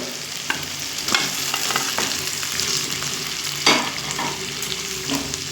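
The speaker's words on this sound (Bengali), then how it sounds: "এখানে দিয়ে দেব আগে থেকে ভেজে রাখা চিকেন পিসগুলো" Pre-fried chicken pieces drop into a frying masala and set off a steady close sizzle, with a few light scrapes and knocks of a spoon against the pan and no talking.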